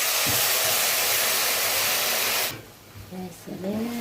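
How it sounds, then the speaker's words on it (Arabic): Boiling water poured into a pot of Egyptian koshari gives a loud, continuous rushing hiss that stops abruptly, leaving a quieter room where a voice is briefly heard. "هننزل بقى بحوالي نص رتل من الميه المغليه."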